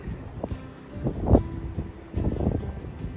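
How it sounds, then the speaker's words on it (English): Wind buffets the microphone at the top of a stupa at a 19th-century Bangkok temple, coming in uneven gusts of low rumble with scattered knocks and handling noise. "A little bit of wind here."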